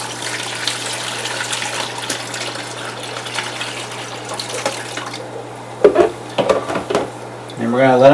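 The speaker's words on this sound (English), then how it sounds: "I'm going to very slowly pour these through the net." Water from a bucket holding aquarium fish is poured slowly through a net into a tank, a soft steady trickle and splash that turns into brief sloshing bursts near the end, with a faint hum underneath.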